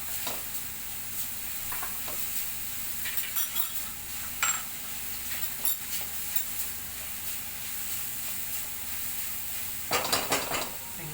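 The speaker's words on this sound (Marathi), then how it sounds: "चांगली परतून घेऊया" Garlicky fenugreek greens sauté in a pan, Dhaba style, with steady sizzling under repeated scraping and clinking of a spoon stirring against the metal pan, no voices.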